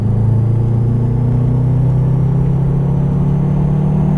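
A Subaru car engine pulls under light throttle, a steady low rumble with a rising tone as it gradually gathers speed, heard from inside the car without any voices.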